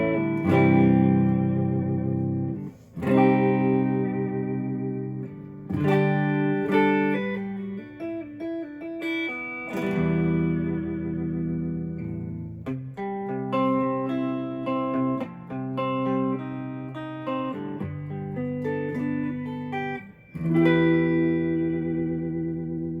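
An electric guitar plays chords and melodic lines through the clean channel of a Boogie amp with the reverb at half, ringing with a lush reverb tail, several strummed chords alternating with single-note passages.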